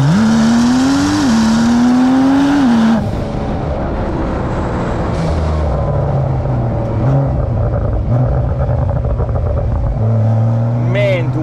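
Brabus-tuned Porsche 992 Turbo S with 820 horsepower accelerating hard through the gears, engine pitch climbing and dropping at each quick upshift, loud and close, with occasional talking over it.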